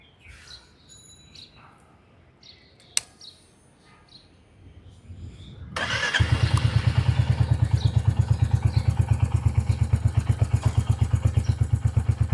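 A Royal Enfield Hunter 350 motorcycle starts partway through after quiet with birds chirping, then settles into a loud, close, steady thumping single-cylinder idle.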